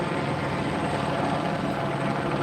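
Police helicopter circling overhead during a police response to a possible shooting in Phoenix, a steady, continuous rotor drone that holds at an even level throughout without talk.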